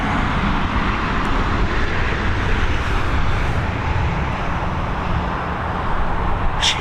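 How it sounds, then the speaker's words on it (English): Ryanair Boeing 737 airliner landing at Dublin Airport, a steady broadband jet roar holding level and fairly loud throughout, with no talk over it. "There we go, another Boeing 737 operated by Ryanair coming into Dublin."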